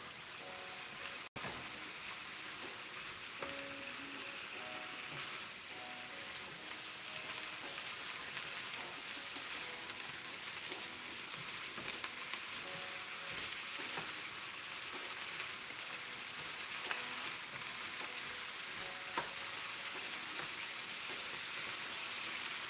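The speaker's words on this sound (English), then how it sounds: "Now we mix everything nicely well" Mixed vegetables, including peppers, are stirred and fried in a pan, giving a steady hiss and sizzle with occasional light scrapes throughout and no talking.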